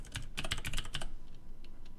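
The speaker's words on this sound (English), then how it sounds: "pressing Tab, typing the word subdivide, pressing Enter" Rapid keystrokes on a computer keyboard, a quick burst of close, crisp clicks followed by a few scattered taps, fairly quiet with no talking.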